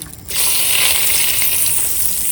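A bay leaf drops into hot oil and breaks into a loud, steady sizzle that starts abruptly and holds close and bright for the rest of the moment.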